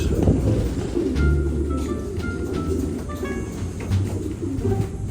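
Racing pigeons coo repeatedly near a family loft, soft low throaty calls overlapping one another with a few sharper chirps above, steady and close with no talking.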